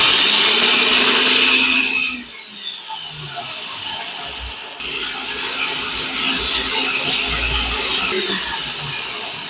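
A mixer grinder blitzes orange segments for homemade orange jam, a loud broadband whirring roar that cuts out for a moment and then starts up again steadily.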